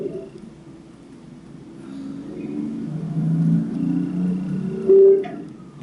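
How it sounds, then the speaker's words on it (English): Car noise picked up in the background through an open microphone on a call, a steady low rumble that swells and fades, fairly loud and without speech. "I can hear what sounds like car noise in the background."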